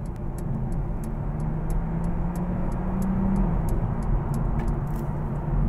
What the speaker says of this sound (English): if I put this into sport mode, we'll find that the engine will then come on, just like that